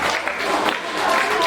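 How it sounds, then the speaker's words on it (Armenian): Audience applause at a family jubilee celebration, a brief dense burst of clapping from a crowd filling the room, fairly close and steady throughout. "Շնորհակալություն, ծափերը բարձր։"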